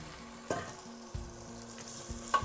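Meat mix being stirred into spices in a hot pan for lotpoti, with a steady close sizzle broken by several soft scrapes and taps of a spatula.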